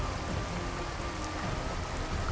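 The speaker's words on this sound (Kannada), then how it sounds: "ಮಳೆ ಕಡಿಮೆ ಆಯಿತು ಅನ್ನೋಷ್ಟರಲ್ಲಿ ಮತ್ತೆ ಮಳೆ ಶುರುವಾಯಿತು" Steady rain falls on a forest road near Kudremukha, a dense and even hiss of drops hitting surfaces, close and continuous, with no voices.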